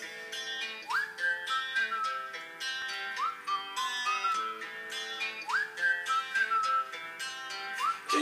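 Someone whistles a bouncy melody with upward-sliding notes, repeating the phrase twice over a backing of rhythmic music.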